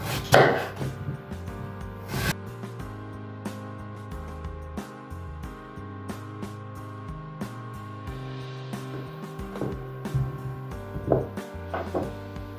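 A knife chops pumpkin into medium pieces against a cutting board, with a regular series of crisp taps over soft background music.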